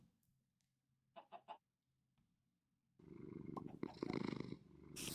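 A cat purrs close by in a quiet room, a low continuous rumble starting partway through and swelling loud to the end, with a few faint soft noises before it.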